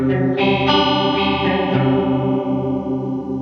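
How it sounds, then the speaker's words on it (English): Clean looped guitar run through a PitchFork pedal on its detune setting gives a thick, wavering chorus-like shimmer, sustained chords ringing with a few picked accents, close and alone. "I've always thought of this sound as the pedal's chorus setting, and it's a pretty extreme setting"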